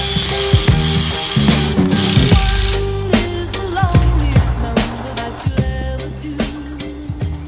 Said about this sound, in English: I just got all the bolts off of the timing cover